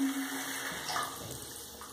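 A bath tap running steadily into a filling bathtub, a continuous close rushing and hissing of water with no pauses and no talk.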